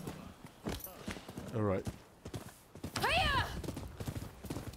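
Horse hooves clip-clop in Rise of the Ronin, with a whinny partway through, while someone talks over much of it.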